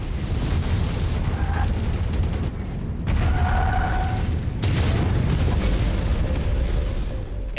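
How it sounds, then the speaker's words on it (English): A mech's ammunition cooks off in the MechWarrior 5 video game, a continuous roar of booming blasts and crackling bursts layered over heavy combat noise, loud throughout. "Yeah, there we go. Got an ammo explosion."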